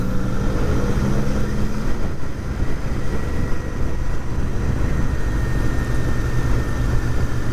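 A KTM motorcycle engine droning loud and close as it rides along, a steady low rumble with a brief tonal whine early on and a slight dip before the throttle builds again.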